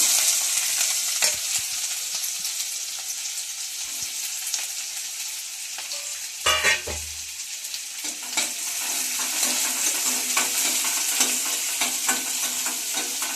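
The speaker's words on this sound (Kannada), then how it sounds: "ಈರುಳ್ಳಿ ಬ್ರೌನ್ ಕಲರ್ ಬರೋದಂತ ಫ್ರೈ ಮಾಡ್ಕೊಳ್ಳೋಣ" Onion frying in oil in a pan gives a steady, bright sizzle, with a spoon stirring and scraping now and then and one louder clatter partway through, close by and without talk.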